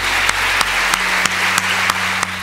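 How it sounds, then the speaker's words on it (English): An audience applauds at a student festival gathering in Trondheim, a steady dense clapping with a few sharp, louder individual claps standing out at regular intervals. "Let's give them a clap too."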